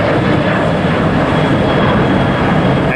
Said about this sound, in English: Another small Spirit taking off